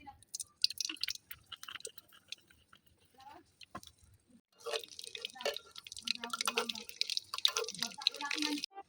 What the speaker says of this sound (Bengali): ছেঁকনিতে করে বুটগুলো ভেজে নেব।